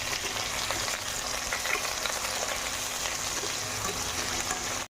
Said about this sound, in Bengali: আর আমি দিলাম একসঙ্গে পেঁয়াজ আমি ভেজে নেবো।